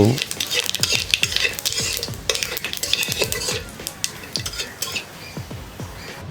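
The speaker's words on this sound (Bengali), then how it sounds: "ভালো মতো নাড়াচাড়া করে ফোড়নগুলোকে ফুটিয়ে নেব" Bay leaf, dried red chilli and cumin seeds crackle and sizzle in hot oil for a Bengali lentil and prawn dal, with a spoon repeatedly scraping and clinking against the pan in a quick, close, steady rhythm.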